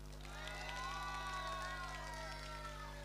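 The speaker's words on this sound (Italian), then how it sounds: "mi fate l'applauso per Banana Joe" A cosplay contest audience at Rimini Comix 2024 cheers and whoops for a costumed contestant, a steady crowd roar with rising shouted voices sustained throughout, fairly distant and even in level.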